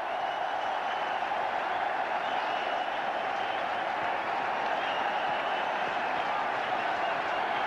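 Cricket crowd at a ground in Indore applauding Sachin Tendulkar's 10,000th one-day run against Australia in 2001, a steady, dense wash of clapping and cheering that holds at an even level throughout.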